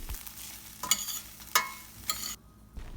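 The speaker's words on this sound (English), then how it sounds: "After mixing turmeric with the rice" Rice with turmeric is stirred in a pan, a few soft scraping strokes with a faint sizzle underneath, quiet and close, with no voices.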